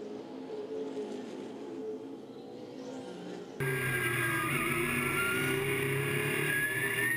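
Dirt track race cars at a speedway surge back onto the gas on a green flag restart, a faint engine drone giving way to a louder, sustained roar of revving engines, without commentary.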